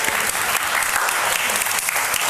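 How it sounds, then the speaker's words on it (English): Audience applause for a female soloist after her song fills the space: dense, steady clapping from a crowd, loud and continuous throughout with no voices standing out. "Let's give her a round of applause."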